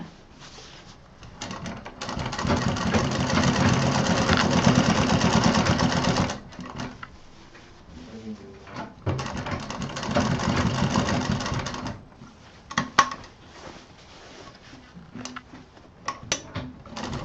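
A sewing machine runs along a seam on a small doll bag in two long bursts, close and fairly loud, then stops, leaving light handling taps and clicks.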